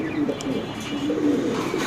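Satin pigeons coo softly and repeatedly at close range, a low rolling murmur that runs steadily through the brief moment.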